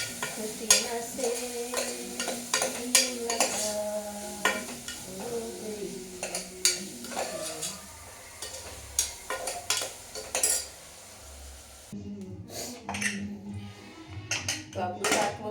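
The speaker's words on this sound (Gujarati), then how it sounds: "તો આપણું શાક વઘારાઈ ગયું છે." A brinjal and potato curry is tempered and stirred in a pan, with a spoon repeatedly scraping and clinking against the metal over a soft sizzle while a person talks.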